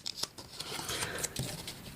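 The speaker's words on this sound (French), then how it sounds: "Pour vérifier, je retourne les cartes." Paper number cards are turned over one by one on a table, giving faint, soft papery flicks and taps with a few sharper clicks, close and quiet, with no talking.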